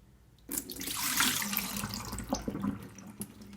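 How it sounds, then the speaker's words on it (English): Tap water suddenly starts running and splashes steadily into a container as overnight-soaked fenugreek seeds are rinsed beneath the stream, close and fairly loud. "The fenugreek has soaked overnight, so now I'm going to rinse it."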